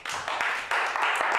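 An improv show audience claps together in a short burst of applause, a busy, crackling wash of hands that swells slightly and holds.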